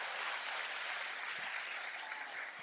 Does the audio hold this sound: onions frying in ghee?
no